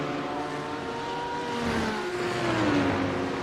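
GT3 race cars roar down the front straight in a sim racing game, a steady engine drone with a rising pitch sweep as one car passes, continuous and moderately loud.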